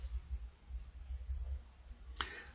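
A single sharp computer mouse click, close and brief, sounds near the end over a soft low-frequency hum.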